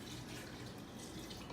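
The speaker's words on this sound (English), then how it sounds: "adding in the orange juice and the brandy. And like I said earlier, 3/4 of a cup of orange juice and 1/3 of a cup of brandy." Orange juice and brandy pour from a measuring cup in a steady, soft liquid rush, quiet and continuous for a moment.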